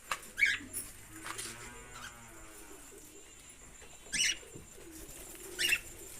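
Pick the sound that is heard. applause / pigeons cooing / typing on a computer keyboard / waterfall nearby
pigeons cooing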